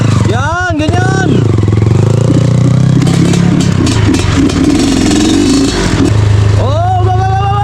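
An off-road motorcycle engine revs up and down sharply, close and loud, with clattering and scraping from rough terrain, while a person shouts over it.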